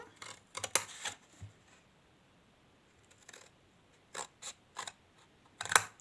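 Scissors snipping paper for a miniature doll wardrobe: a series of sharp, close, crisp cuts in short bursts, separated by quiet pauses, with no voices.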